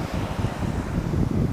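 Blustery wind at a beach buffets the microphone in a dense, steady roar, with surf and waves washing underneath throughout.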